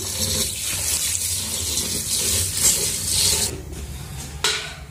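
Running water pours steadily onto loose biryani rice in a vessel for soaking, a close splashing stream with brief dips and surges in flow.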